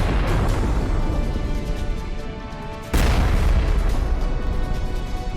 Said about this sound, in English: triggering ammunition detonations that caused large explosions